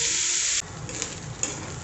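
Chopped onion sizzling as it sautés in a pan, a steady bright hiss that drops to a softer crackle partway through, close and continuous with no talk.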